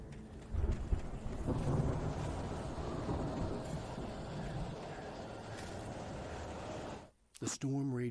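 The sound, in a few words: thunderstorm in the video game Alan Wake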